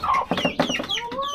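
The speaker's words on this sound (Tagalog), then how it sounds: "Bugaw muna ako ng manok." A brief burst of close, rapid chicken clucking, several choppy squawky calls in quick succession.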